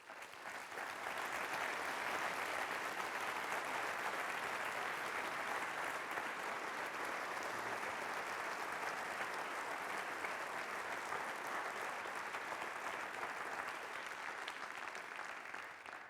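Sustained applause from a large lecture audience at the University of Washington fills the room, steady and dense throughout, with no speech over it.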